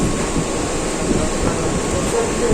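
Steady rumble of a local train running late at night, heard from inside a nearly empty carriage, a continuous broad low-frequency roar with faint rattling throughout and no clear voices.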